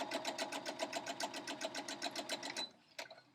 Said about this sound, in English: make sure all these sides are lined up, and then we just sew right on these sides